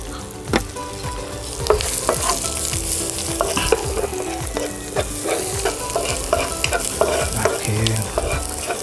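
Pork belly stir-fried with salted egg and onion: a loud, steady, close sizzle of frying with repeated scraping and clinking of stirring throughout.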